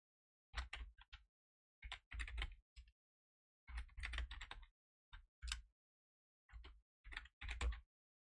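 Keys clatter on a computer keyboard in short bursts of typing separated by pauses, with single presses like the Enter key between them, close and fairly quiet in an otherwise silent room.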